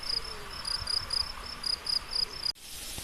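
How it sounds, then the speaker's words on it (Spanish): Crickets chirp in a steady pulsing rhythm in an open field beside a park in Móstoles, fairly faint and alone, cut off abruptly near the end. "Escuchad los grillos."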